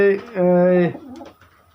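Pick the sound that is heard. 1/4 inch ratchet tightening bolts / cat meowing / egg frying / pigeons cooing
pigeons cooing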